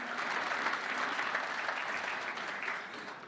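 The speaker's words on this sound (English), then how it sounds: "Let's give a round of applause to Frankie also." A round of applause at the Namibia Annual Sport Awards, a dense, steady crowd clapping at moderate distance that tapers slightly at the end.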